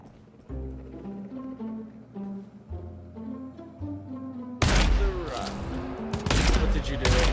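Gunfire in the co-op horror shooter GTFO: after quiet tonal game music, a loud burst of rapid shots erupts near the middle, breaks briefly, then resumes as dense, sustained firing to the end.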